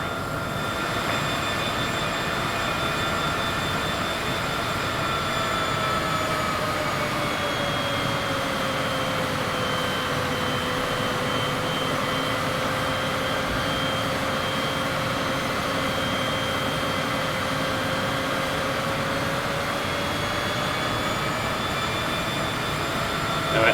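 A Cessna's engine drones steadily inside Microsoft Flight Simulator on an approach to land, a loud, continuous hum with slowly shifting tones and no pauses.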